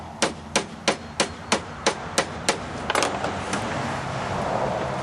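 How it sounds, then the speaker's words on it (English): About nine sharp, evenly spaced strikes from the flat part of a broom hammer driving a nail into a broom, close and loud, followed by a few quicker taps and a fading rustle. "We're going to drive it with the flat part of the broom hammer."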